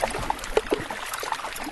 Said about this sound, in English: That's the sound of trapped air bubbles popping in an iceberg.